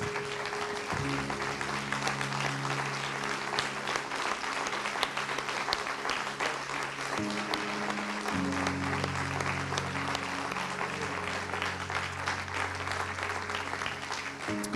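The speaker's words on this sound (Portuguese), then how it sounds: "Eu gostaria que nós, em um tom profético, nós aplaudíssemos a Jesus neste momento." A church congregation applauds steadily throughout a service while a low sustained organ or keyboard chord plays beneath, shifting pitch partway through, the clapping dense and close.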